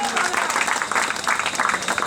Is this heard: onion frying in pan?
no